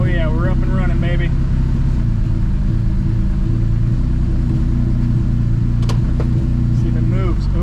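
A stroker V6 swapped into a Honda Civic rumbles loud and close after a new clutch install, a deep steady engine drone with brief tonal chirps, while a voice speaks over it.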